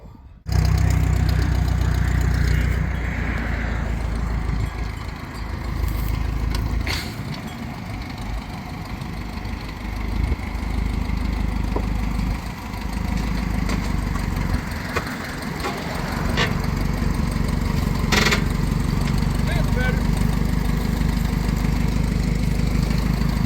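An old tractor engine runs steadily in first gear, a continuous loud chugging idle-like rumble with slight rises and dips throughout and no voices.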